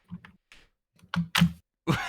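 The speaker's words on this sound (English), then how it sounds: "I was gently typing. It was not gentle. It was very gentle. My keyboard is just very loud." A loud computer keyboard is typed on in a few sharp, irregular bursts of clicky keystrokes, close and alone in a quiet room.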